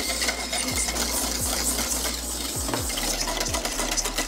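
Pastry cream being whisked in a bowl, a continuous wet stirring churn with several quick scraping strokes against the bowl, loud and close with no talk.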